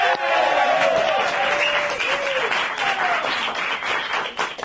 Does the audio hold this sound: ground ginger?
no